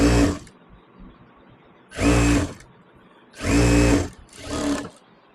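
A sewing machine stitches around the armhole of old saree fabric in four separate whirring bursts, with quiet pauses between them. The machine sounds close and loud, and no one speaks.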